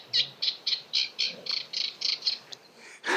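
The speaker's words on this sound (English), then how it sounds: "In the background you might be able to hear a reed warbler." A reed warbler sings close by, giving a rhythmic run of about ten harsh, scratchy chirps in quick succession, with no voices.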